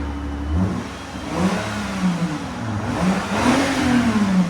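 A 2008 Lexus IS 250 with a 2.5L V6 and a Valvetronic Designs universal muffler, recorded near the exhaust. It gives several loud, smooth rev-ups that rise and fall over a low idle.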